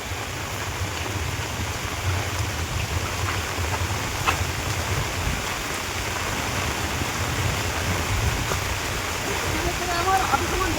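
Steady rain and rushing floodwater by a riverside picnic spot make a dense, continuous wash of noise, loud and close, with a person talking faintly underneath.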